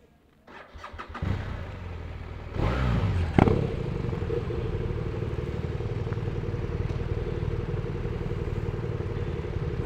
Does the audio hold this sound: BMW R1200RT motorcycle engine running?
yes